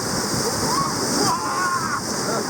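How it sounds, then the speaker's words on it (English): Rushing river rapids churn and splash in a steady, loud wash of white water during a rafting trip, with no breaks across the short stretch. "The rapids are exciting"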